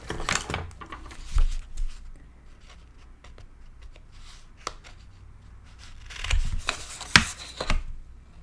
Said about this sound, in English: Let's trim the corners here.